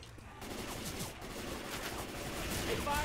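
Gunfire aimed at the Witch in the zombie shooter Left 4 Dead 2: continuous rapid shooting under a dense, noisy game soundscape, fairly steady and close throughout.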